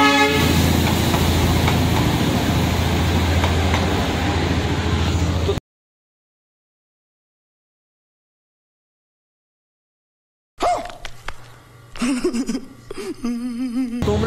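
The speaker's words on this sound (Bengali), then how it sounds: "একটা ফুটেজে আসুক যে টয় ট্রেনটা যাচ্ছে" Darjeeling toy train passing on a cold day, a loud continuous rumble of wagons that cuts off into silence, then returns with sharp clattering bursts and a brief horn-like toot.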